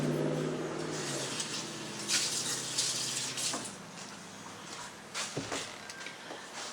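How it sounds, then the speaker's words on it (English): Running tap water rinses a scoop at a kitchen sink during meal prep, a steady splashing hiss with brief clatters as the scoop moves under the stream, close and alone without talk. "I'm going to go rinse my scoop."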